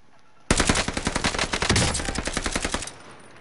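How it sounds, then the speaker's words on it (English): Rapid bursts of assault rifle fire in a video game, a sustained volley of about two and a half seconds with distinct repeating shots, loud and close, ending abruptly into quiet. "Assault rifle here."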